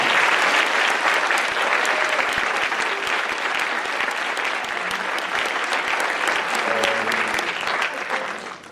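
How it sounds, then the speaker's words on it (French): An audience in a hall applauds steadily for a drummer at a film premiere Q&A, a dense, continuous wash of clapping that holds for several seconds and fades at the end. "Alors vous pouvez applaudir aussi Steven, qui est mon batteur, qui est dans la salle"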